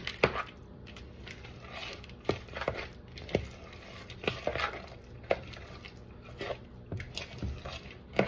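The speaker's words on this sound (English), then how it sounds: "I'm just gonna stir this together" A no-bake cookie dough and yogurt mixture being stirred in a bowl, with wet squishing and repeated sharp spoon clicks against the sides at an irregular rhythm, close and fairly clear, no talking.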